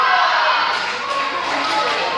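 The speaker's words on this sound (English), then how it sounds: "y'all hear the crowd?" Loud, steady roar of a cheering crowd at a live event, a dense wash of many voices heard from within the stands, sustained and unbroken throughout.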